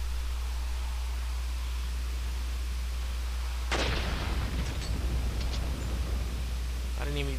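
A blast in Resident Evil 4 erupts midway through a steady hum of game noise, a loud booming burst followed by scattered crackling debris and a few sharp follow-up hits.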